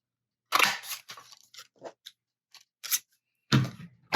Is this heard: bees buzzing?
no